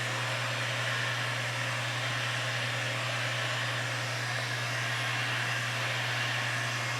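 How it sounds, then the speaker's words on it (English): Heat gun blowing steadily while shrinking window tint film on a car's back window, a continuous close whooshing hiss with a low motor hum, unbroken and without speech. "I'm just going to kind of wiggle the heat gun back and forth about 2 to 3 inches off the"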